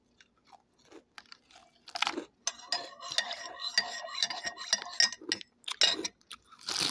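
Someone chewing plain roti up close, with quiet, irregular soft chewing and mouth sounds, a few faint clinks and brief murmurs in between.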